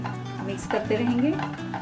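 Dosa batter for a fasting meal is stirred with a spoon in a bowl after salt is added. The scraping is steady and close over a soft tonal background.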